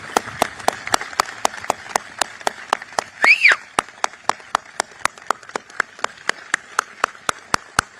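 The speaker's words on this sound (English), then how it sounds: "please join me in a giant round of applause for Stephanie" At a military change-of-command ceremony at SOUTHCOM headquarters, sharp claps ring out in an even, steady rhythm, crisp and evenly spaced rather than a dense crowd roar, with a brief high squeal breaking in midway.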